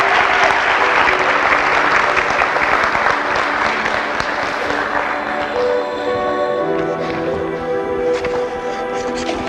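A pageant audience applauds the little princesses, with dense sustained clapping that is loud at first and gradually thins while a voice begins speaking over it.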